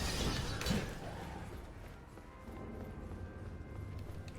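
Horse hooves clip-clop in the video game Elden Ring, with a short burst of hoofbeats near the start before the sound settles into quieter ambience.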